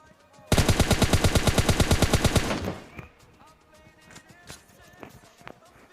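Rapid automatic gunfire from a PUBG Mobile Lite match fires as one loud burst of about two seconds. Faint game sounds and speech follow.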